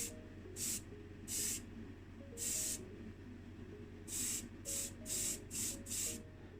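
Satin enamel paint goes on as a second coat over the bonnet of a 1970 Ford Capri Matchbox model, in about nine short airbrush-like spray bursts, quiet and close, separated by brief pauses.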